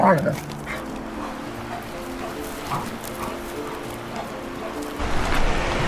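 Dogs whine and yip as they play nearby on a hike in Cheesman Canyon, Colorado, with scuffling movement over steady outdoor background noise.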